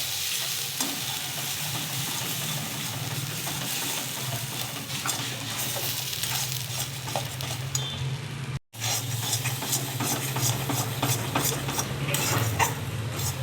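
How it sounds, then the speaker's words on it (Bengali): A pea filling of green peas, ginger and green chilli for kachori fries in a wok with a steady sizzle and repeated scraping stirs, a low hum beneath and one brief dropout midway. "দিয়ে পুরটাকে ভালো করে ভাজবো।"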